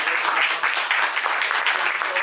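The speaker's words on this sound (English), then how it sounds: "Can we please give a round of applause to all the station managers?" An audience applauds station managers at a social justice awareness panel, a dense, steady round of clapping that fills the room and holds for a couple of seconds.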